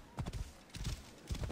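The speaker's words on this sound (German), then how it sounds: "Oder ist hier ein Pferdchen," Horse hooves clip-clop in the video game Assassin's Creed Origins, sounding as faint, quick bursts of hoofbeats in three groups against a low background hum.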